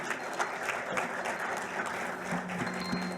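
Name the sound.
audience applauding and cheering for a pitch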